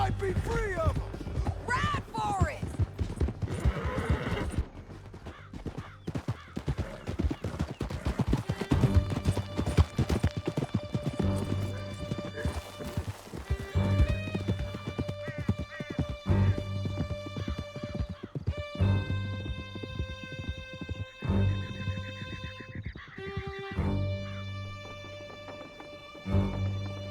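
Horses gallop with steady rhythmic clip-clop hoofbeats in the video game Red Dead Redemption 2, close and continuous, with occasional whinnies, a musical score and scattered talk.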